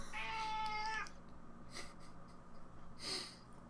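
A house cat gives a clear, close meow lasting about a second, followed by a few soft snorts and breathy sniffs in a quiet room.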